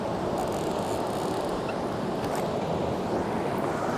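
Rushing whitewater from a class 3-5 rapid on the Gunnison River roars as a dense, steady wash, loud and close, with no voices.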